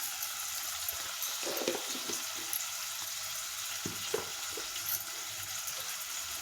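Brinjal pieces fry in a pan after salt is added for a curry with raw prawns, giving a steady soft sizzle with occasional light clicks and stirring scrapes, fairly faint and with no talking.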